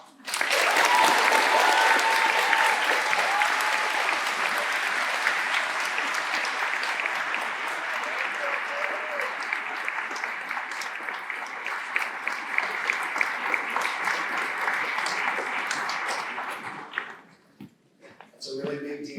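Sustained audience applause at a Class Day 2024 ceremony honoring a group of students called up on stage, a dense, steady wash of many hands clapping for about seventeen seconds before fading out, with a few stray claps and faint voices at the end.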